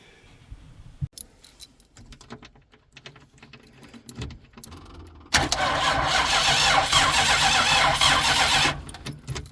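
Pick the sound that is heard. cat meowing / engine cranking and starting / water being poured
engine cranking and starting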